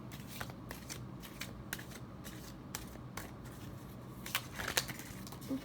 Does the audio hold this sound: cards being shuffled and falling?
yes